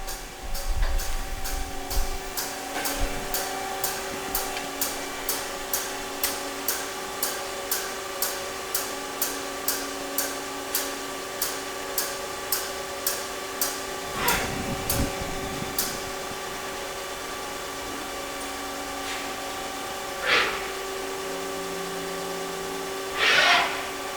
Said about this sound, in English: Just the basic lathe warm-up.